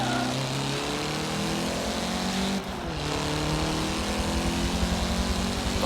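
Mitsubishi EVO 9 engine held at full throttle in a Forza Motorsport 7 race, a loud steady drone with a brief dip near the middle before climbing again, alone without voices.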